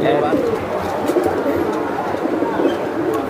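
Racing pigeons and seal-marked Giribaz pigeons coo in a close, dense chorus of low throaty calls, with several birds overlapping continuously and a voice talking over them.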